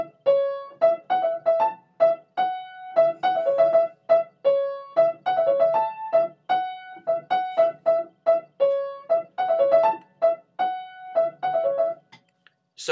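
Solo piano plays a song, with clear, close, syncopated chords and melody in a bouncy rhythm and short pauses between phrases.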